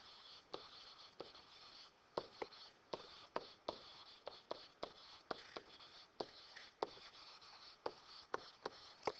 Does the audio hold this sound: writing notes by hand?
yes